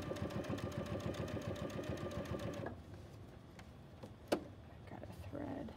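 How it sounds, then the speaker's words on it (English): A sewing machine backstitches in a fast, even mechanical rattle for under three seconds and then stops, leaving a quiet room with a few small clicks and a brief sharp knock. "And I'm going to back stitch."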